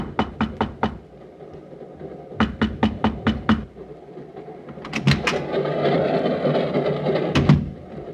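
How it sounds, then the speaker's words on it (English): Someone knocks on a train compartment door in sharp, close, separate bursts of several raps, a pause, then more knocks, followed by a longer rattling, mechanical clatter. "hesitated, then raised my hand and knocked"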